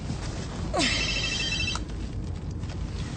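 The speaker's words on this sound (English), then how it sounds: "Detective Hasham's phone?" A telephone rings in a police drama: a short burst of bright electronic trilling lasting about one second, heard against a murmuring room background with faint voices.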